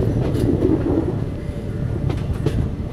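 A passenger train on the Gooty to Bangalore line runs on the rails with a continuous loud rumble and rhythmic clickety-clack of wheels, heard from aboard.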